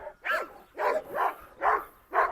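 A dog barks five times in a steady, evenly spaced series during a dog fight, loud and fairly close, with no talking between barks.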